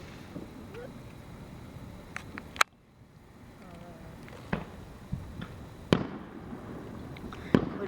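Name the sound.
fireworks exploding in the distance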